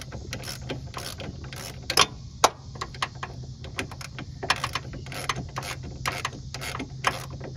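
A hand ratchet clicks in quick uneven runs while loosening a rear bolt on the driver-side control arm of a 2004 Chevy Malibu, close and fairly loud against a low background hum.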